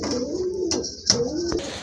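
A male pigeon coos close by in a few soft, low, throaty calls, interrupted by brief sharp clicks or rustles, with no talking.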